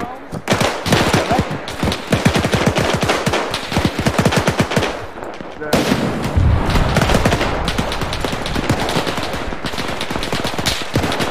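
Rapid, dense gunfire fills an Arma 3 World War II battle in 1945 Berlin: long sustained bursts of automatic fire rattle continuously at close range, loud throughout, with a short lull midway before the shooting resumes.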